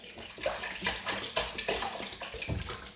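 Water poured in a continuous, gurgling stream for mint, ginger and sage tea, close and steady, with splashy pulses and no voices.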